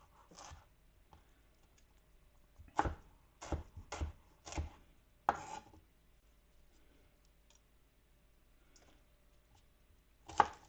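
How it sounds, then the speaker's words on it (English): A knife cuts onions on a board in a quiet kitchen, with sharp, separate chops arriving in irregular bursts: a few quick strokes in a cluster, then pauses and one last crisp cut. "just to cut onions."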